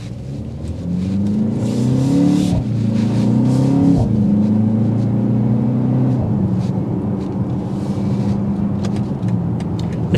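A 2024 BMW X2 M35i driving on the road, its engine rising and falling in pitch as it accelerates and shifts, a loud close interior rumble with road noise throughout.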